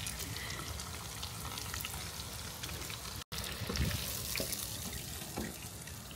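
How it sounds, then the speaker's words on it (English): Steady, dense crackling sizzle of shrimp deep frying in hot oil, close and continuous, with a brief cut midway and a few louder pops. "Deep fried the shrimps now."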